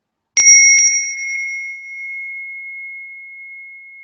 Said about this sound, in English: the Balinese bell has a different quality of sound to the Tibetan bells